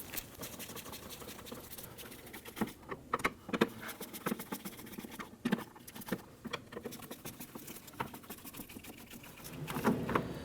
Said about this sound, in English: Simply use your Phillips head screwdriver to loosen and remove these screws.